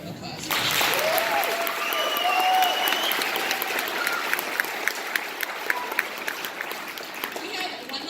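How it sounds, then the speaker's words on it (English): Audience applauding at a 5th grade band concert, sustained clapping from a crowd that swells and then thins out into scattered claps toward the end. "they deserve another round of applause"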